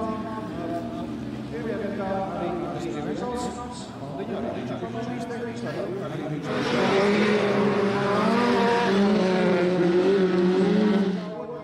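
Autocross race car engines in the 1600 saloon car class roar and whine up close at a race track, growing louder and busier midway through, with someone talking over the engine noise throughout.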